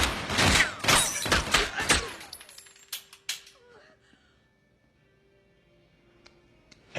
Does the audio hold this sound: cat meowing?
no